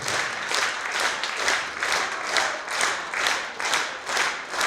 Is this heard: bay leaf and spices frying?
no